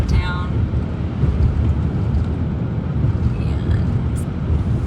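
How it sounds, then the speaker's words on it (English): Strong wind roars steadily around a vehicle driving Highway 50 at night near Tahoe during an April snowstorm, a continuous buffeting rush mixed with low road rumble. "yeah, it's very windy out right now."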